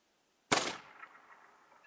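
A single sharp crack from a Virant .22LR rifle fires in the hunting game theHunter: Call of the Wild, followed by a short fading echo and then near-silence.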